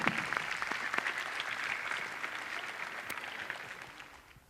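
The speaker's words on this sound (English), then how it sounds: "Can we have a huge round of applause for CP?" A room full of people gives a round of applause to welcome a presenter onto a safety session, brisk crowded clapping that starts full and gradually thins and fades toward the end.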